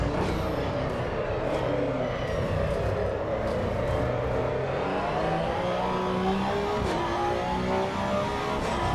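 A Porsche race car in Assetto Corsa Evo revs hard and accelerates, its engine a steady, loud, rising drone with climbing tones through the gears, close and continuous without talk.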